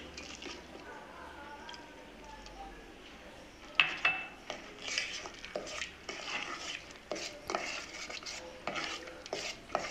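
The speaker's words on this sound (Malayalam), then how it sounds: "അര ഗ്ലാസ് പാല് നന്നായി അത് മിക്സ് ചെയ്ത് കൊടുക്കുക." A spoon stirs half a glass of milk into a flour (maida) batter for a chocolate biscuit cake, making soft wet squishes and light clinks against the bowl, starting quiet and growing busier.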